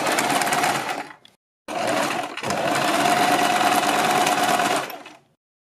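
A sewing machine stitches along a kurti neckline beside buckram, running in a loud close burst, stopping briefly, then running again in a longer steady stretch before cutting off.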